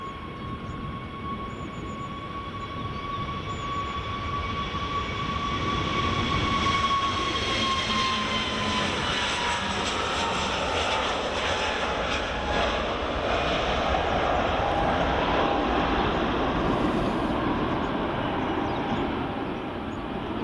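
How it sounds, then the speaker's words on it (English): An EasyJet airliner takes off from Edinburgh Airport bound for Iceland, its jet engines a loud, sustained roar with a steady whine that slowly falls in pitch as the aircraft climbs away. No one speaks. "here goes EasyJet all the way up to Iceland"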